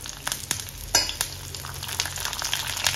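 Curry leaves and shallots hit hot oil with mustard seeds, producing a close, loud crackling sizzle full of sharp spitting pops. It sounds with no voices over it.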